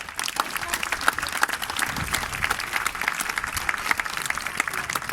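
An audience applauds at a dolphin show in a dolphinarium: steady, dense clapping from a crowd that runs unbroken and fairly loud throughout.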